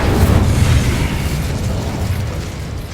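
A fire spell cast in Hogwarts Legacy, heard as a loud, sustained roaring whoosh with heavy low rumble that swells early and slowly tapers off.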